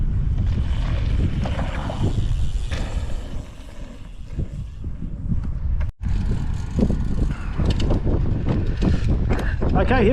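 Strong wind buffets the microphone on a ride, a loud continuous roaring rumble with brief dropouts, while people's voices come and go beneath it.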